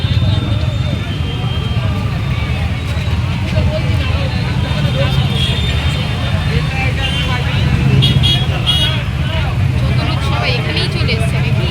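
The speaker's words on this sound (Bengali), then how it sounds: "পুজোর জন্য রেলগেট খোলা তাও গাড়ি যেতে পারছে না" Vehicles sit jammed at an open railway level crossing during Durga Puja, a dense roar of engines, horns and crowd babble that stays loud and unbroken, with people talking over it.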